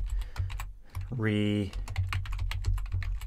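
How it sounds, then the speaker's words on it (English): Rapid keystrokes on a computer keyboard while entering to-do items, a steady run of close clicks interrupted by a brief tonal sound partway through. "So all I have to do now is start typing things to do."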